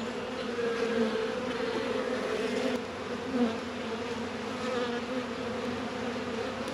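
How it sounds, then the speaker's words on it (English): A steady, dense buzzing of many honeybees around a hive box fills the air close by, a continuous drone with no talking. "I'm noticing some bees further down here in the shade"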